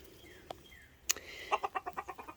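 Chickens cluck inside a metal-roofed chicken house on a homestead, a short run of evenly spaced clucks following a sharp knock, fairly close with no talk.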